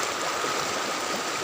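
The Cijalu river flows along a forest route as a steady, broadband rush of stream water, continuous and fairly close with no voices over it.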